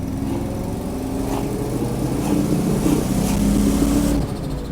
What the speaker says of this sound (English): I definitely hear the exhaust leak is back